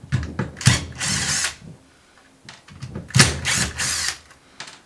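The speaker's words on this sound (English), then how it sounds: "A few little posi head screws. So we'll take them out using its little sister here." Makita DF330D 10.8V cordless drill backing out small Pozidriv screws, with short whirring bursts separated by pauses and clicks, close and clear with no talking.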